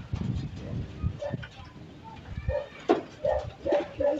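Racing pigeons gathering on a landing board, with soft coos and wing flutters at close range while someone talks over them.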